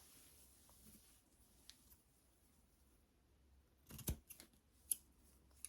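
New scissors thinning a wig give a single quiet, crisp snip, followed by a few faint clicks over near silence.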